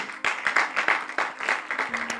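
A church congregation claps together in a steady, rhythmic burst of applause, filling the room with even, repeated claps and no talking.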